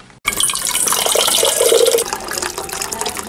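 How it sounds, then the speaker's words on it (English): Water streams steadily from a tap into a cup at a barbershop workplace, a loud, close, continuous splashing rush that starts abruptly and slightly eases toward the end. "I've got my cup. I'm filling it up with water."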